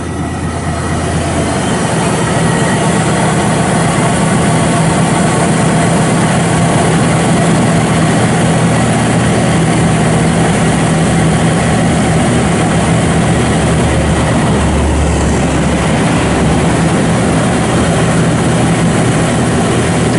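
A 1966 Chevrolet Caprice pro-touring build with a 6.0 LS V8 idles steadily, a loud, close, unbroken rumble that holds for the whole stretch with no voices.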